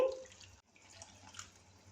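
Leftover water from a blender jug is poured into a cooking pan of Bihari-style eggplant curry, giving a steady, soft splashing and trickling wash that dips briefly and then continues at moderate volume.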